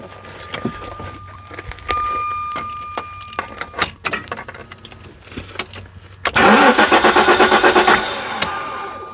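A 1994 Jaguar XJ6 engine cranks repeatedly with a fast, rhythmic chugging after some jingling keys and clicks, loud and close, without catching.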